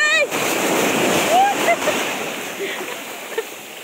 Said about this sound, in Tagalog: Kasi sobrang lakas ng alon.